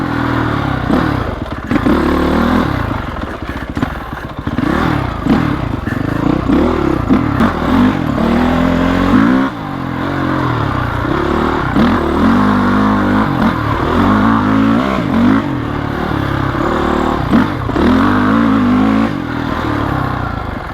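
A fifteen-year-old Honda CRF450X dirt bike with upgrades rides off-road, its engine revving and surging continuously and loudly up close. Clattering bumps from the terrain run underneath.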